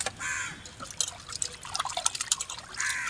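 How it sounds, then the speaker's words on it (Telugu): Sea fish are rinsed under running water while being washed for frying, with close, irregular trickling, splashing and dripping throughout and no speech. "సముద్రపు చేప మాట ఇది, బాగా నీటికి కడుక్కోవాలి."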